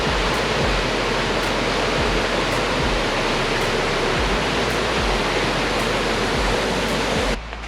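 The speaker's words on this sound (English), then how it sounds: "the majority of the trail you have views of the water, waterfalls like you wouldn't believe" A waterfall at Copper Falls, Wisconsin roars in a loud, steady, broadband rush close by, unbroken until a sudden drop at the very end.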